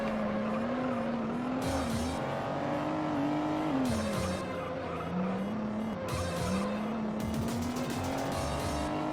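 A race car in the video game Juiced drives hard, its engine note rising and falling through gear changes while tires squeal in repeated bursts, loud and continuous with no talk.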